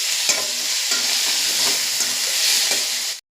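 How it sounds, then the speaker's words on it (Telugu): Potato pieces fry in a pan with eggplant, onions and oil, giving off a steady loud sizzle broken by soft periodic scrapes of stirring, with no voices. "కొంచెం వేగాక దీంట్లో ఆలు వేద్దాము. చిన్న చిన్న ముక్కలా కట్ చేసి కొంచెం వేగనివ్వాలి."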